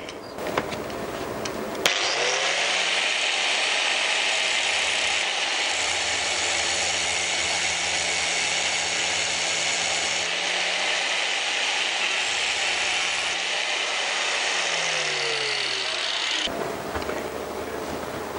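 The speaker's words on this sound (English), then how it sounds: "let's grind that baby flat and centre punch again and start again" Loud, continuous grinding of metal by a power tool, grinding a broken exhaust stud flat on a Honda CBR1000F motorcycle, a harsh sustained whine lasting many seconds before stopping abruptly.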